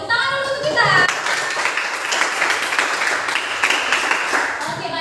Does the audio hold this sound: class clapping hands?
yes